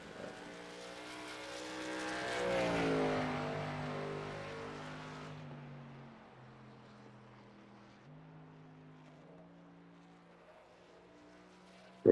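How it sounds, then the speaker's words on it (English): A race truck on its qualifying lap at New Hampshire swells as it nears, then its engine fades into a distant, steady drone with a few shifts in pitch, heard alone. "Pretty good look at the one truck there on his qualifying lap."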